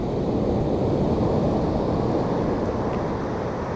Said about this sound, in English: I think it's the noise when the waves go back,